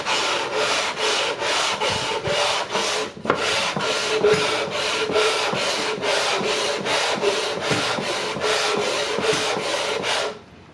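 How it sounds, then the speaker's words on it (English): An MDF board is rubbed flat across a sheet of sandpaper in quick back-and-forth strokes. The close, loud, rhythmic rasping repeats steadily, with one brief pause early on. "what I'm going to do is just lay this on top of the sandpaper"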